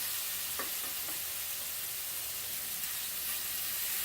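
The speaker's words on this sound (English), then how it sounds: "you want to hear a nice sizzle" Chicken fajitas sizzle steadily in a hot frying pan, a constant bright hiss with a few faint stirring clicks, close and moderately quiet, with no one talking.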